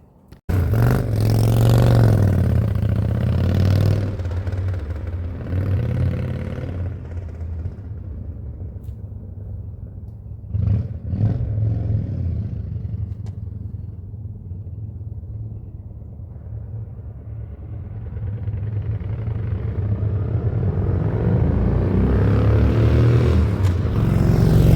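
Project car fired up and driven on a short test drive down a street, its engine rumbling loud at the start, fading as it pulls away, then growing louder again on its return, with some clatter and scraping.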